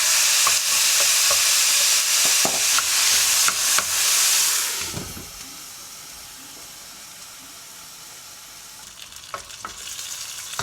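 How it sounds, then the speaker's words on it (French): Tomatoes go into a pan of frying onion, garlic and peppers, a loud bright sizzle with clanking utensil taps that drops sharply after about five seconds to a quiet simmer with occasional light clicks. "après avoir mis l'oignon, l'ail et les poivrons, je vais ajouter mes tomates"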